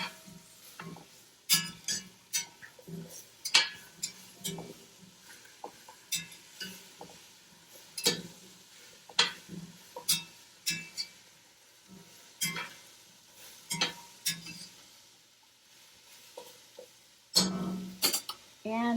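Spoon stirring carrots and tomatoes in a cooking pot: repeated soft scraping clicks and knocks in an irregular rhythm, close and fairly quiet, with a faint sizzle underneath.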